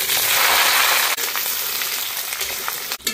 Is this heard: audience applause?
no